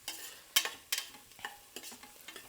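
Onions sautéing in a pan give a soft, quiet sizzle, broken by several sharp scrapes and taps of a stirring utensil against the metal, close and alone.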